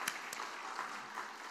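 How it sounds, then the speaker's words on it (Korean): A church congregation at a Sunday afternoon service claps together, a faint, even patter of many hands heard from a distance with a couple of crisper claps near the start. "우리 먼저 박수 한번 치겠습니다"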